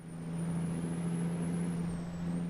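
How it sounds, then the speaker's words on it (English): A big Caterpillar diesel engine in a truck hauling dynamite hums smoothly and evenly nearby, a deep steady drone with a faint high whine riding above it. "Listen to that big old Caterpillar motor purr."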